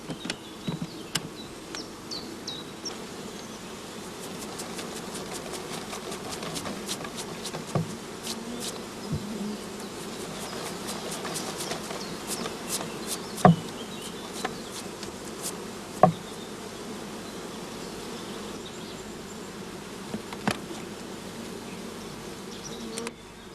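Honeybees buzzing steadily around an open hive during a shook swarm, a dense continuous drone with individual bees zipping close past now and then, plus a few sharp knocks from hive equipment.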